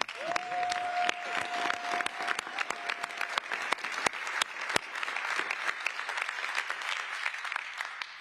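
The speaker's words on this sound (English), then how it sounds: "give yourselves a round of applause" A room applauding itself at a New York City mayoral end-of-year press briefing, sharp close hand claps from a modest crowd, steady and crisp, with a brief voice at the start.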